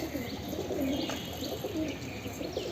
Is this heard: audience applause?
no